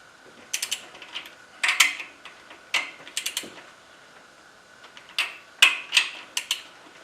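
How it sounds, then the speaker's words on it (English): Torque wrench tightening bolts on a Toyota Prius engine during a head gasket job: crisp metallic ratchet clicks in short repeated bursts, with pauses between strokes, close and clear. "So now it's time to torque these to 87."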